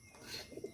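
A pigeon coos close by, one soft throaty call rising and falling in under a second.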